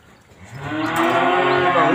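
A five-month-old cow at a Vietnamese livestock sale gives one loud, close moo that swells after a quiet start and holds steady for over a second, with no talk.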